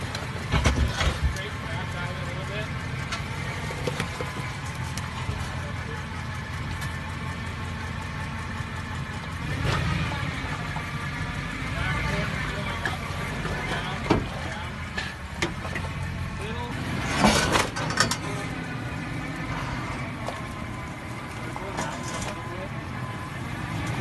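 A Ford F-150 with new heavy-duty rock sliders crawls over rocks off-road: a low, steady engine drone runs throughout, broken by occasional sharp knocks and scrapes, with voices faintly in the background.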